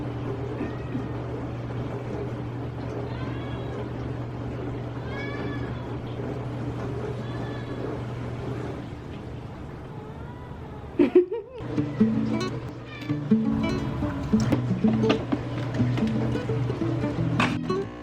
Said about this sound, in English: she's always meowing at me all the time